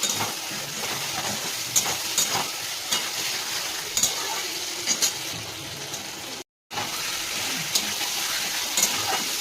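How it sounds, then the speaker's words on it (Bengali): Fried potatoes added to spices sizzling in a pan, giving a dense, steady sizzle with frying hiss throughout, broken by light periodic clicks of stirring and one brief cut to silence. "এবার ভেজে রাখা আলুগুলো দিয়ে দেবো। ভেজে রাখা মান আর আলু দিয়ে দিচ্ছি।"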